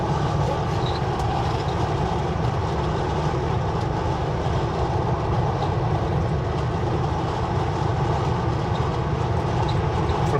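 A Kansas City Southern freight train rolls past on the line between Barrière and Kamloops, a steady loud rumble and rail roar holding evenly from start to finish.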